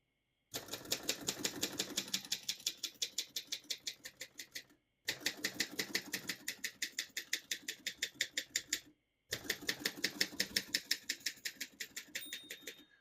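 Rapid, evenly paced mechanical key strikes on a 1958 Voss De Luxe ST24 portable typewriter clatter in three long runs, separated by brief silent pauses, close and distinct.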